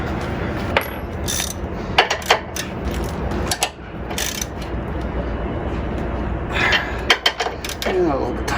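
A ratchet wrench tightening the mounting bolts of a motorcycle sidecar, with several bursts of close, rapid metallic clicking separated by pauses and handling clunks, and someone talking now and then.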